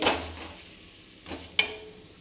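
Chopped tomatoes sauté in a pan with a low sizzle, broken by a couple of brief spatula scrapes against the metal.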